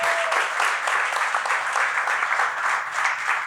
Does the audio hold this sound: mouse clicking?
no